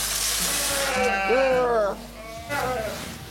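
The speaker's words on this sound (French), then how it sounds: "C'est marrant, les moutons, on a toujours l'impression qu'ils sont en train de t'engueuler un peu." Lacaune and Thônes-et-Marthod sheep bleat loudly and close by in a farm pen, several overlapping wavering calls rising and falling, with people talking nearby.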